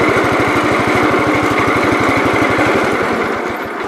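A small tractor engine runs close and loud, a fast even putter with a rough mechanical drone that eases slightly toward the end, no talking.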